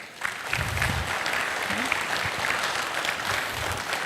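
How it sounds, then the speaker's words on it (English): Store teams at a company event burst into a big round of applause, a dense, sustained clapping from a large crowd that carries on at an even level with some cheering underneath. "So please give yourselves a huge round of applause."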